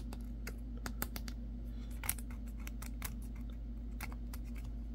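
The clicky switch of a Wurkkos TS10 flashlight, pressed repeatedly to give a quiet scatter of small, crisp clicks, some in quick pairs, over a low hum.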